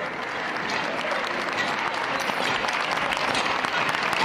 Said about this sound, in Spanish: El público con la acompañando, el público arropando, con esos aplausos